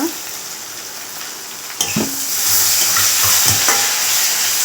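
Tomatoes dropped into hot oil in a pan for masala dosa filling, a sudden burst of frying that settles into a steady, louder sizzle with spoon stirring knocks, close up and free of talk.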